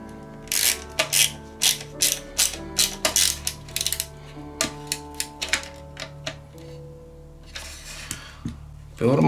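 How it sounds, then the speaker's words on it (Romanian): Small screws are driven into a Lancia Delta Integrale scale model, making a run of quick ratcheting clicks in bursts, close and crisp, with brief pauses between turns. "Vom folosi șuruburi LP1 ca să fixăm bordul în cele două"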